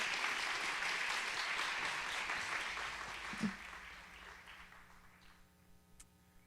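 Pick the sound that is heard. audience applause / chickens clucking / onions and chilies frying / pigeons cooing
audience applause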